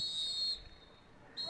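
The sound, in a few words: referee's whistle ending first half of youth soccer game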